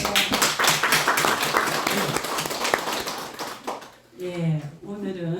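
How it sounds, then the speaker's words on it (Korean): Congregation applauding in a temple hall, a dense burst of clapping that fills the room for several seconds before fading, followed by a voice speaking. "큰 박수 한번 주세요."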